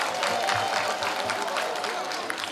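An outdoor crowd in Mamoudzou, Mayotte, applauds a visiting French government minister, a continuous spread of distant clapping mixed with crowd murmur and voices.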